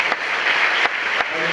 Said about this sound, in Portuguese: Vamos aplaudir Jesus.